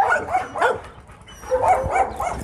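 A dog in guard dog training gives two clusters of rapid barks and yips, close and loud, separated by a short pause.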